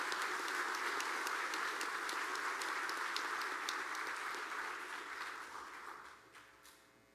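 An audience claps at a high school honors night, giving dense, sustained applause that stays loud for several seconds and then fades out.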